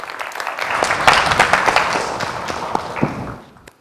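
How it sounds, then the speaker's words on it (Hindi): Audience clapping breaks out for a guest on a Hindi stage show, a lively patter of hands with a few louder claps, fading out near the end. "तालियां इनके लिए"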